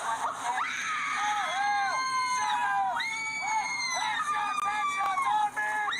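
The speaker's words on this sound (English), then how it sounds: "I freaking can't stand screaming. It's the worst noise ever." Screaming from a haunted house walk-through, several high, wavering shrieks rising and falling one after another over a continuous crowd-like background, loud and close throughout.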